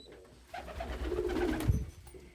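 A pigeon coos softly and close by, giving a few low, throaty, rolling coos that swell in the middle. A faint knock or bump is heard near the end.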